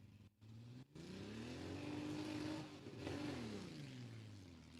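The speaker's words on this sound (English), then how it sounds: "now that is the Drag Nasty car" A drag racing car at Rockingham Dragway revs hard, its engine pitch rising through a sustained howl, dropping briefly, then climbing again, loud and continuous after a couple of short cutoffs.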